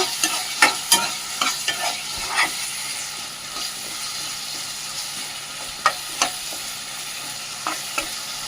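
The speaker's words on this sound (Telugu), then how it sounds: "ములంకాడలు వేసాక కలుపుకుందాము" Drumstick pieces being stirred in a frying pan for an egg and drumstick curry, a continuous close sizzle broken by sharp scraping clacks of the spoon in bursts, no voices.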